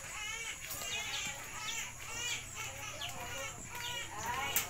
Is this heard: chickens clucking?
yes